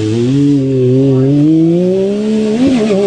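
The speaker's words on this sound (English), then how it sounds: "That's just stock exhaust with the baffle out, too." A car with its stock exhaust and the baffle removed revs loudly and close, its engine note rising steadily and dropping briefly near the end, with no talk over it.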